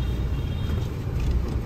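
A car close behind, giving off a steady low engine rumble that stays loud and even throughout, with no talking.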